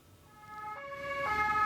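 An ambulance siren wails steadily on a ring road, its pitch stepping and rising as it draws nearer, with faint road traffic rumbling underneath.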